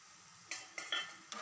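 Minced meat keema with green chillies being stir-fried on a tawa, a few soft scraping clinks of a spatula over a faint background sizzle.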